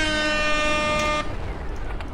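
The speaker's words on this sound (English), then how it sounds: "With air horns blasting allowed." An air horn blasts loudly in a video game, a harsh sustained tone lasting about a second before cutting off into quieter background noise.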